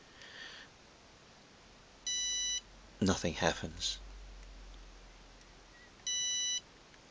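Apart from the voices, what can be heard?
battery solar system inverter alarm beeping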